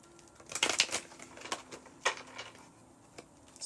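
Soft papery riffling and light tapping of tarot cards being shuffled, a quiet flurry of brisk flicks close to the ear.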